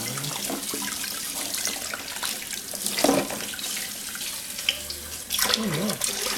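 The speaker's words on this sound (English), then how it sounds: "I need to rinse it, otherwise it'll just be soapy." Running tap water rinsing soapy dishes in a kitchen sink after a meal of lamb and jacket potatoes, a steady close splashing stream with occasional clinks and knocks of dishware.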